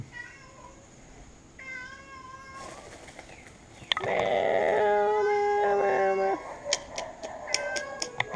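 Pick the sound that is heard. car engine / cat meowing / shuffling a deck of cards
cat meowing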